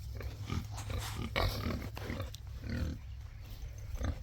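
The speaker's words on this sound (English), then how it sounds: "These two are our most gentle pigs." Pigs on a farm, a gentle breeding pair, give off continuous low grunting and snuffling close by, with no one talking.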